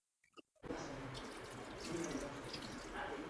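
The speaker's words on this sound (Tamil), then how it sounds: "மட்டன் வந்து கரெக்டாக முங்குற அளவுக்கு மட்டும் நம்ம வந்து தண்ணி ஊற்றிக்குவோம்" Water gushes into a cooking pot of raw mutton, a steady close pouring splash that starts abruptly after a few faint clinks and runs on unbroken until the end.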